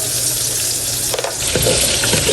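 Garlic, onion and ginger frying in a pan for chicken liver and gizzard adobo, a loud continuous sizzle with a brief stirring clatter partway through.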